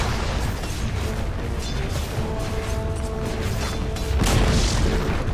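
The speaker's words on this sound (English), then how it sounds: "Dire's top tower has fallen." Dota 2 top tower collapsing: a heavy, rumbling crash of crumbling structure amid dense game-battle noise, swelling louder near the end.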